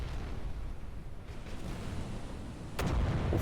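Naval cannon fire from a burning cruiser's turret in the warship game Battleship Command, a steady low rumble of distant battle ending in a sharp, louder boom near the close.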